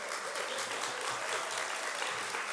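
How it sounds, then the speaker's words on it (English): An audience applauding during a talk by Ailbhe Smyth on women, power and health, a continuous, even wash of clapping from a large crowd, heard at moderate distance without a voice on top. "I would like to hear a big cheer."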